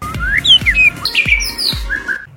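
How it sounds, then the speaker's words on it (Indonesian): A white-rumped shama sings a quick, varied run of bright whistled phrases and chirps, close and loud, with sharp clicks between notes. "ini pada burung pasti tretekannya, responnya juga cepat kayak tipe panas"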